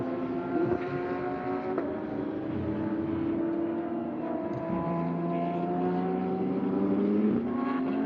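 Race cars at the 2023 Sepang 12 Hours endurance race, engines droning steadily with rising harmonic tones as cars pass, a continuous loud roar with no voices.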